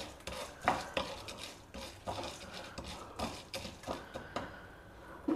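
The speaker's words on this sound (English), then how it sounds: "Roast the dals well till they lightly change color." Chana dal and urad dal roasting in a pan while being stirred, giving repeated scraping and clinking strokes of a utensil against the pan in an uneven rhythm, close and moderately loud, with no talk.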